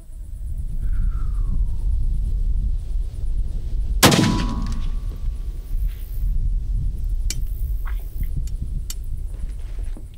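A 6.5 Creedmoor rifle, a Savage 12FV, fires one sharp, loud shot outdoors, aimed at a target a mile away, cutting through constant wind rumble with a brief decaying tail.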